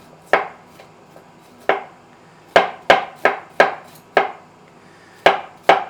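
Knife shaving small stalks off a head of broccoli on a cutting board, a series of sharp, close chopping knocks in an irregular rhythm, about a dozen strikes with brief pauses; no talk.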